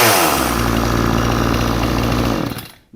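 New Proyama 62cc gas chainsaw engine running loudly and close, a steady buzzing two-stroke drone that sputters and dies out near the end, with no talking.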